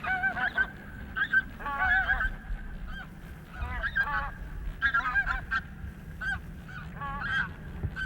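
Several geese honk repeatedly, close by on an Arctic island, in overlapping nasal calls over a low outdoor rumble.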